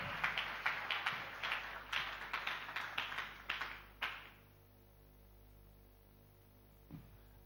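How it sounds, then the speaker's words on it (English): A church congregation claps hands together in a steady, lively rhythm for about four seconds, fairly close and loud, then the applause stops, leaving a low room hum and one last isolated tap. "You are not clapping for him, you are clapping to the Ancient of Days"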